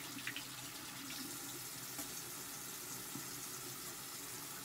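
Tap water runs steadily into a sink to wet the bristles of a makeup brush during a nighttime makeup removal routine, a constant rushing hiss with no talk.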